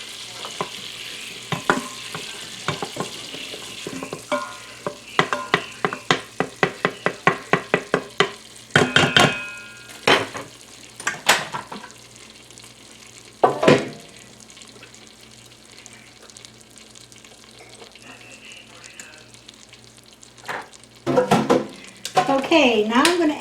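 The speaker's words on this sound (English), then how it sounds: "I'm also going to add just a little bit of olive oil. And get this butter all melted nicely." Butter melts with a little olive oil in an Instant Pot for French onion soup. A quiet sizzle sits under a run of close clicks, taps and utensil scrapes against the pot, with a brief voice near the end.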